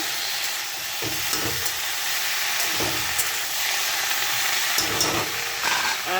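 Vegetables frying in a pan on a stove, a steady sizzle and hiss with a few distinct scraping stirs of a spatula breaking through at intervals.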